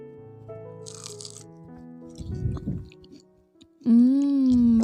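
Crispy fried cassava snack (singkong mekar) seasoned with chicken-onion or balado spice, bitten and chewed in a few loud close crunches between stretches of soft background music.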